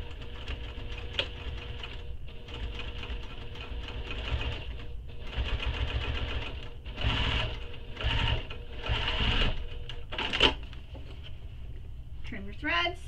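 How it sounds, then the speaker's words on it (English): A sewing machine topstitches the seam allowance on a tote bag's side gusset in several loud bursts of rapid stitching separated by short pauses, with a voice talking over parts of it. "And then we're going to top stitch that seam allowance."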